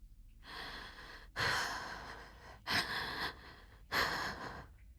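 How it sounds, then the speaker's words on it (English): Heavy breathing used as a sound effect in an audio story: three or four loud, close, rasping breaths, each a sharp gasping inhale or exhale separated by brief quiet gaps. "And heavy breathing."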